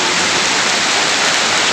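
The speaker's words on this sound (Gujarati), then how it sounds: "ભૂકા કાઢે વરસાદ હો મિત્રો" Torrential downpour after the new year, a dense, steady roar of heavy rain hammering down with no break, loud and close, with no voices.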